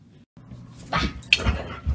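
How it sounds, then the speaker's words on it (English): A dog whimpers in short, thin whines and snuffles at close range, rising after a brief silent gap, with no talk over it. "What are you doing, you crazy dog?"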